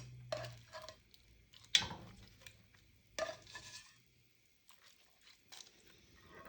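Chicken pieces being pressed down into a simmering Tuscan sauce in a pan, giving a few soft wet stirring and squishing sounds with brief clinks of a utensil against the pan, close and fairly quiet.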